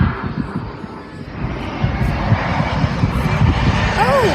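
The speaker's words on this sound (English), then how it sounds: "there's a plane" Airplane engine roaring as an aircraft passes at the Proud Bird Museum, a loud broadband rush that builds toward the end, with a brief squeak near the finish.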